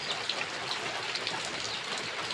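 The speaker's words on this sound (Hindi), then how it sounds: "बहुत जोर वर्षा होता है" Heavy rain falls in a steady, dense hiss during a village downpour, continuous and moderately loud with no voices.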